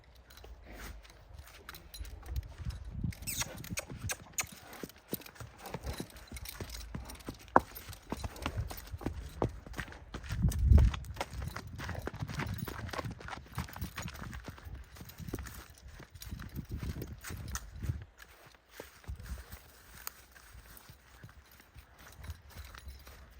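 A stallion's hooves clip-clop in an irregular, ongoing stream of close steps and scuffs, moderately loud, over about twenty seconds.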